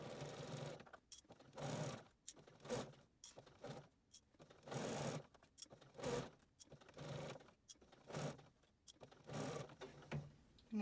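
A sewing machine stitches a surgical cap headpiece with lining, running in short repeated bursts of whirring stitches separated by brief pauses, close and clear with no talk over it.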